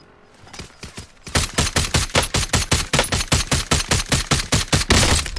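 DMR rifle shots in a video game fire in a fast, evenly spaced string of sharp cracks, a few soft taps first, then over a dozen loud close reports in steady rhythm.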